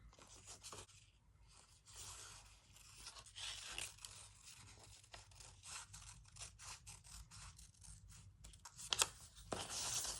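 Scissors cut out paper for a junk journal page in close, quiet, repeated crisp snips and scraping strokes that run steadily throughout, with no voices.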